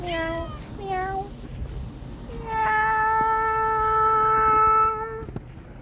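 A cat meows repeatedly, several short rising-falling calls followed by one long drawn-out wail, close and clear with light background noise.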